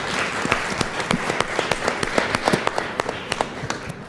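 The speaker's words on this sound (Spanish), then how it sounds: "Muchas gracias y un aplauso para ellos, por favor." An audience claps at a book or database launch presentation, with crisp individual claps in an uneven patter that is moderately loud and close.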